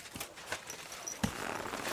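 A horse in Kingdom Come Deliverance 2 moves nearby. Soft irregular hoof thuds and a sharper knock are heard, faint and fairly close, against quiet background noise.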